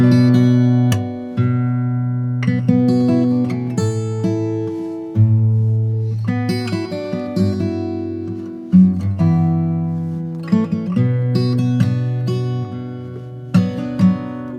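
A fingerpicked acoustic guitar plays the gentle melodic opening phrase of a song, individual notes ringing over a steady bass line, clear and close with no voices.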